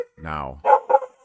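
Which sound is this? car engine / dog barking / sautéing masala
dog barking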